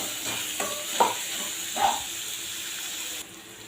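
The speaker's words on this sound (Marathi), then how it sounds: "आता कांदा छान भाजत आलेला आहे" Large-cut onions for mutton curry roast in a pan, giving a soft, low sizzle broken by a few light scrapes or stirring knocks. No one speaks.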